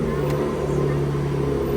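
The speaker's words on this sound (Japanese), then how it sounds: "私今映してるですねポルシェマカン GTS、 エンジン音これですよ。" Porsche Macan GTS SUV engine running after ignition, a steady mid-pitched hum and drone heard close up, constant level without distinct revs.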